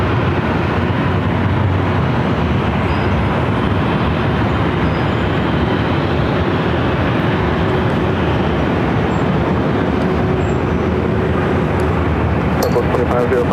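A Southwest Airlines Boeing 737 MAX 8 taking off at LAX, a loud, steady broadband jet roar that holds throughout with no break, with voices faintly underneath.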